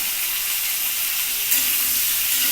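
Vegetables frying in hot oil with coriander leaves, chopped ginger and green chillies: a continuous bright sizzle and hiss, close and steady, with a slight surge partway through and no voices.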